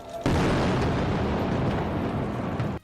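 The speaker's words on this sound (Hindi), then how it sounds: "रात के अंधेरे में इजराइल की मिसाइलें सीरिया में जा धमकी।" Israeli missile strike in Syria heard as a sustained, dense roaring blast lasting a few seconds, loud and broadband, rising abruptly and cutting off sharply, with no voices.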